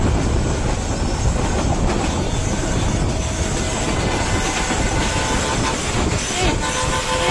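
A train passes close by on a railway track, a loud, continuous rumble and rattle of wheels and wagons that holds steady for the whole stretch.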